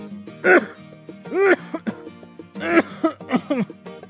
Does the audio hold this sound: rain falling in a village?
no